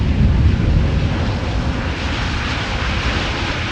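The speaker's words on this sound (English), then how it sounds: "I did hear a little bit of reverse action in the beginning." A jet airliner roars loudly on landing at Amsterdam Schiphol, a broad steady engine rumble with reverse thrust that slowly eases off, heard alone with no voices.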